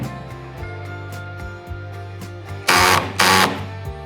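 A power drill drives a screw into a brass insert on a Hobie Pro Angler kayak's H-bar standing support, with two short loud bursts of drilling over a steady tonal background.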